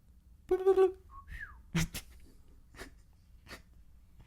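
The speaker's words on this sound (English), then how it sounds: "I feel like you need to put more effort into whistling" A person whistles into a podcast microphone, a short wavering tonal whistle followed by a rising squeak, then breathy puffs and clicks in an otherwise quiet room.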